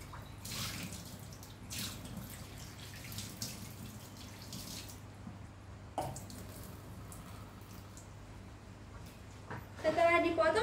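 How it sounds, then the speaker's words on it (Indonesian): Cut breadfruit (sukun) being washed clean under running water, a steady low rush of flow with splashes and louder gushing toward the end, heard alone at close range. "Setelah dipotong, kita cuci sukun sampai bersih."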